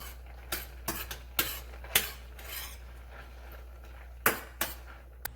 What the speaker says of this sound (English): So we're just going to stir that up.